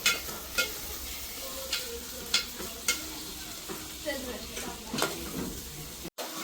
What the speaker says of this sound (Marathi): मस्त कांदा आई करपवतोय सगळा व्यवस्थित पाहिजे तसा शिजवून घेते